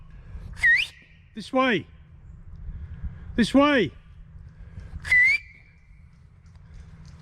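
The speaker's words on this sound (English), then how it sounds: "Excuse me while I whistle." A person whistles outdoors on an autumn walk in a park, giving four short rising and falling calls spaced a second or two apart, loud and close, with a brief spoken word between them over low ambient rumble.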